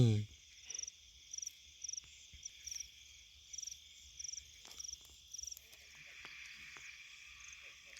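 Grasshoppers or crickets chirping in repeated short, evenly spaced pulses of rapid buzzing, close and clear, giving way to a steadier continuous trill toward the end.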